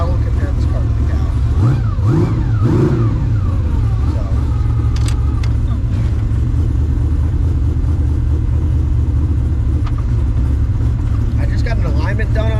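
A 1600hp twin-turbo Ford Mustang engine running, a loud steady low rumble with a brief rev swell early on, heard from inside the car under ongoing conversation.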